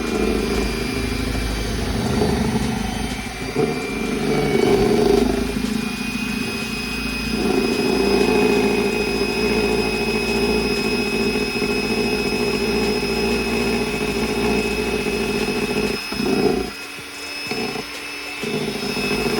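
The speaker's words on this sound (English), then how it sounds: "We're going to start whisking again on low." An electric mixer whisks a coffee ice cream mixture on low speed, giving a steady, close motor whir that hums evenly for a long stretch and then falters and cuts out briefly near the end.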